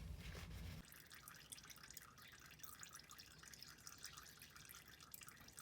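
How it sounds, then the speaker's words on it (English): Motor oil dripping from the oil pan drain of a 2.4L Jeep Patriot, a faint, steady patter of small drops with no talk over it. "now that the oil has almost stopped dripping"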